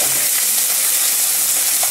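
Chicken breast steaks sizzle steadily in a frying pan with garlic, a continuous loud hiss and crackle with no pauses and no voices.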